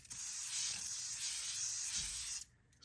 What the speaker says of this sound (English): So I'm about to spray my face down with this.